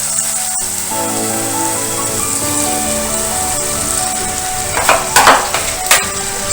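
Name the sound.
spinach paste sizzling as it is added to frying masala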